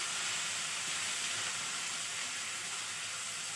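Grated carrot fries in a pan with a steady, even hiss of sizzling oil, close and unbroken, with no other sounds.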